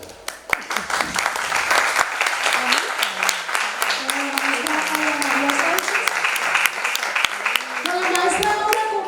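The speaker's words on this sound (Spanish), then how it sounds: "¿Me permite un aplauso colectivo de mis compañeros aquí presentes?" Classmates give collective applause for a teacher at an arts and education gathering, a close, busy clatter of hands that continues under a voice speaking through most of it.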